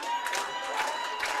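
Wrestling fans at an SICW All-Star Wrestling event roar and cheer in the arena, with whoops and shouts rising in repeated swells, loud and sustained throughout.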